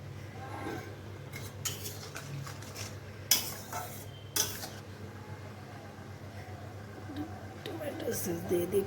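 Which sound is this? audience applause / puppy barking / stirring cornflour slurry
stirring cornflour slurry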